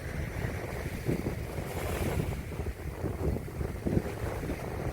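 Wind and surf on an exposed rocky coast while rock fishing in New Zealand, a steady loud roar of gusting wind over the microphone with waves washing in continuously, no talk.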